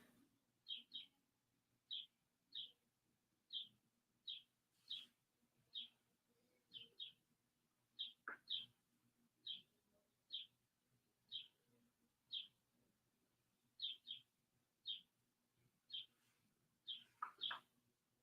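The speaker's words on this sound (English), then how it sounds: "You guys hear the birds out there?" Bright bird chirps repeat steadily every second or so, short high double notes over a quiet low hum, somewhat distant and outdoors.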